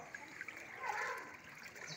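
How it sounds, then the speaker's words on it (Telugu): The flooded Munneru stream in Khammam rushes past in a faint, steady flow of water, heard at a distance with no clear talk. "నీళ్లు బాగా నడుతున్నాయి."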